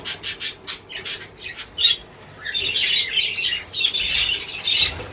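Pet birds at feeding time break into loud, harsh squawks and rapid chirps close by, first in short bursts and then a continuous noisy chorus.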